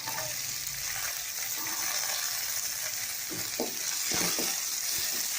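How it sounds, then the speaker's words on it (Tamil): Onions for an egg gravy sautéing in a pan, a continuous close sizzle with occasional stirring scrapes and soft clinks. "வெங்காயம் பொன்னீராக ஓரளவுக்கு வதக்கிடலாம்."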